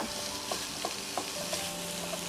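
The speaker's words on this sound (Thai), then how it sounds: "ผัดหมูกับพริกแกงให้เข้ากันนะคะ" Sliced pork and curry paste stir-frying in a pan, a steady hiss of sizzling with soft periodic scrapes of a spatula every fraction of a second, close and even.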